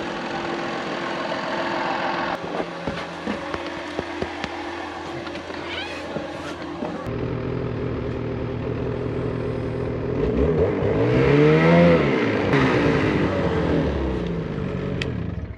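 A PistenBully 400 snowcat's engine runs steadily nearby with a low droning hum, shifting pitch and swelling louder toward the end.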